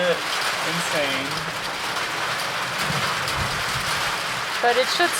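Steady rain patters on a tent at a campsite, a dense continuous hiss throughout with faint voices and a few chirping bird calls at moments.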